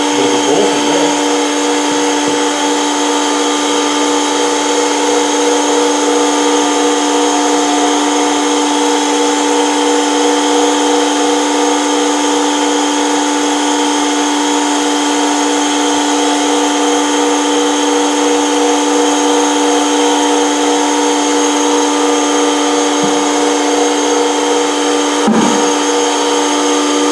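An oil centrifuge spins steadily while cleaning contaminated oil or diesel, giving a loud, constant whine with layered tonal hum for the whole stretch, broken only by a faint knock near the end.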